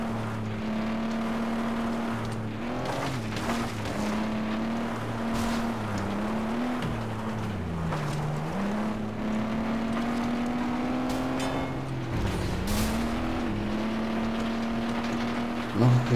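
Race car in the FlatOut 2 video game revs with a continuous loud engine drone, pitch dipping and climbing with gear changes and skids, alone without talk.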